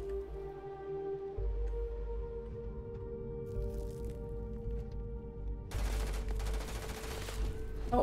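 Gunfire in the video game Starfield, a steady ongoing fusillade of shots against a low droning game ambience, with a harsher, brighter burst of firing toward the end.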